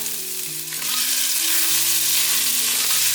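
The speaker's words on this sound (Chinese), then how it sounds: "放入姜末，爆香姜末" Minced ginger hits hot oil in a wok and crackles in a loud, continuous sizzle that swells after the first second, with a faint tonal hum underneath and no voices.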